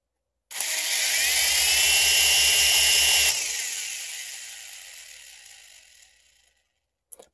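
Propel Altitude toy RC helicopter spinning up indoors: a loud, steady motor whine with rotor whir for about three seconds, then winding down and fading out over several seconds, with a small click at the end.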